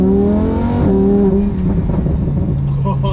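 Lamborghini Huracan with a factory-fitted race exhaust in sport mode, revving loudly up close with an aggressive rising engine note, followed by pops and crackles.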